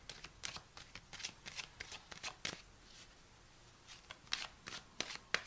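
Tarot cards being shuffled by hand to pull clarifier cards, quiet and close, with a series of short riffling bursts and brief gaps between them.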